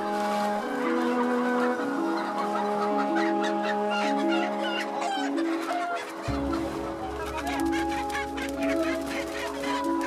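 Chickens in a poultry farm cluck and squawk continuously, a dense, close flock calling over a steady mechanical hum that deepens partway through.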